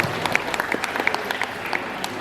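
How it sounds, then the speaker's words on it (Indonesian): A few scattered hand claps ring out briefly in a room, sparse and uneven over a low background hum, as a small audience gives a short round of applause. "Itu tepuk tangan."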